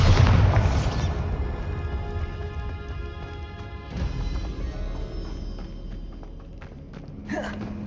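Bombarda spell explosion in the Hogwarts Legacy video game: a loud, heavy boom that decays into rumbling debris and a second thud, followed by lighter clatter.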